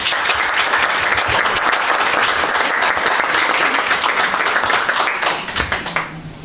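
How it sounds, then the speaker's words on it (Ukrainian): An audience at a talk about a kobzar gives sustained, dense applause that fills the room and fades near the end. "Підтримайте оплесками, пане Миколе."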